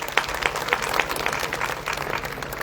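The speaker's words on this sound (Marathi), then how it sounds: "माझी विनंती आहे 25 तारखेला एका टाळ्या वाजवा त्यांच्याकरता" A crowd at a public lecture gathering claps for marathon organizers, giving moderate, fairly even applause with a few distinct claps standing out near the start.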